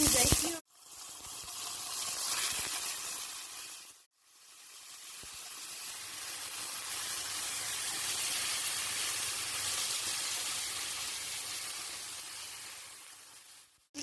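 Vermicelli toasting in a hot pan for rice pilaf gives a steady, close, hissing sizzle. It runs continuously, with two short breaks near the start and the middle, and nobody speaks over it.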